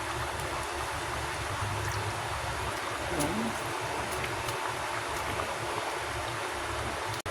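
Mung bean soup with moringa leaves boiling in a cooking pot, a steady broadband bubbling and hissing wash that holds constant throughout with no clear speech.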